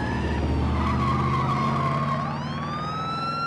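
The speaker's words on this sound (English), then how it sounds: "That drift, though, I always loved that drifting." Car in the video game Driver drifting and skidding, a loud continuous tire screech with engine roar, the squeal rising in pitch near the end; a siren-like wail is mixed in.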